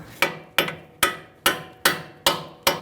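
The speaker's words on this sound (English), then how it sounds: "I'm going to thread my nut back on a little bit so that I can tap it out." Hammer blows tapping a bolt out of a front strut on a 2000-2007 Ford Taurus, seven sharp metallic strikes at a steady rhythm about half a second apart, close and loud, with no talk.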